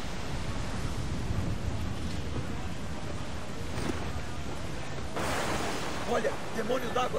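Stormy sea in Assassin's Creed 4 Black Flag, with continuous roaring waves and gusting wind as a dense, steady wash, plus a brief surge of spray toward the end.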